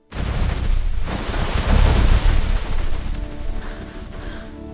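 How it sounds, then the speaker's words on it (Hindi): A storm's strong winds roar through a forest, a loud, sustained rushing gust that swells early and then slowly eases, with no voices. "तेज हवाएं चलने लगी, पेड़ हिलने लगे और कुछ ही देर में भयानक तूफान आ गया।"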